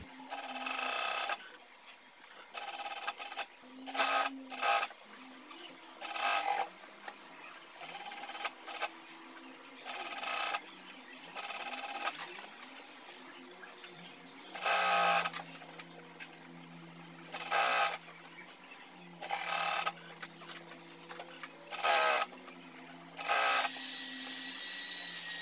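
Sewing machine stitching along the edge of a pajama seam in repeated short bursts, each run of stitching broken by brief pauses, close and fairly quiet with no talking.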